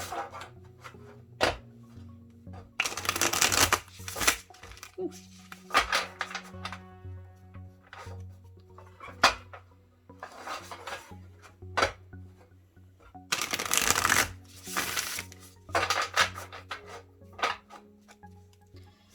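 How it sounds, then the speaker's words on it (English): Bursts of rapid papery riffling as tarot cards are shuffled come in a few rounds over soft steady background music. "So I'm going to go ahead and shuffle this."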